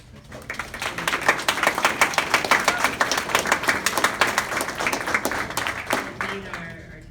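Audience at an awards ceremony for a best of show competition breaks into applause, individual claps rising quickly into a loud, rhythmic, close round that tapers off near the end.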